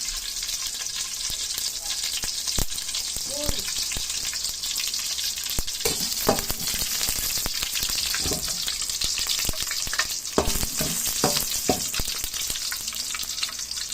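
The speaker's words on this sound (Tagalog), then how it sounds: "Lagyan na natin yung bawang." Garlic frying in a pan for laing, a coconut milk taro leaf dish, with a constant crackling sizzle and several spatula stirs and scrapes spread across the clip.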